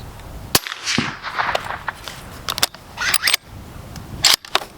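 A suppressed 7.62 rifle fires a supersonic round into a pond: a sharp, close crack, then a spray of splashing noise and several more scattered sharp clicks and snaps.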